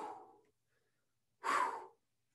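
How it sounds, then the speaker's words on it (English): A man breathes heavily during a live strength and glute workout, with two loud, close, breathy exhales separated by a short silence. "You might notice my heavy breathing."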